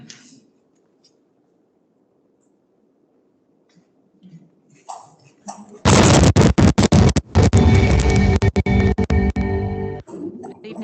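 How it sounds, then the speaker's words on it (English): A loud explosion sound effect bursts out after a quiet stretch, a dense crackling blast lasting several seconds with rapid pops and rumble before cutting off abruptly. "Now we're going to hear that explosion again."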